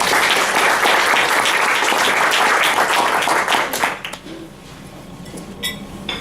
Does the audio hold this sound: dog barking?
no